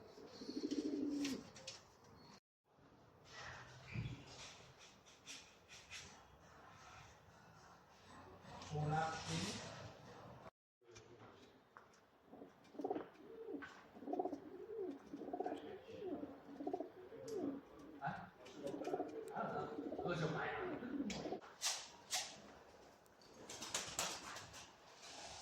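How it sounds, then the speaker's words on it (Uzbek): White pigeons coo repeatedly in soft, rolling phrases at close range, with chirps and occasional wing flaps, while people talk over parts of the recording. "Qo'ldan kelgancha oq kaptarlarni ham obzorini qilganmiz."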